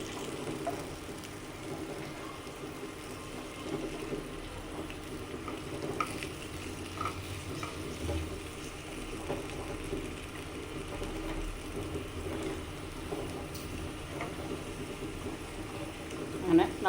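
Slices of sweet potato fry in a pan with a soft, steady sizzle and faint bubbling that runs low and continuous throughout, while a voice talks over it.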